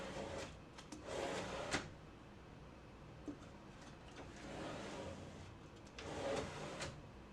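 An undermount drawer slide assembly with a drawer pushed along its runners, giving soft sliding rumbles in a few bursts with brief clicks as the drawer seats into place, close by with no talking.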